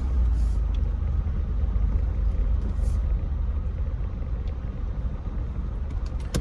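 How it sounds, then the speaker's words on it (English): Car passing on a town road in Sylacauga, Alabama, heard from inside a vehicle as a steady low rumble of road and engine noise, with faint brief higher swishes and no voices. "I'm letting this car pass by."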